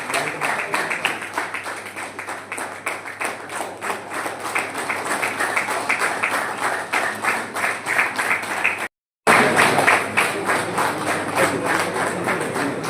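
Sustained loud applause from an audience at a provincial meeting and honour ceremony of a government technical office employees' union in Raipur, steady clapping throughout with a brief cut midway.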